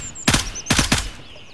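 Gunshots in the military shooter game Gray Zone Warfare, one sharp loud shot followed by a quick pair of shots, close and alone with no talk.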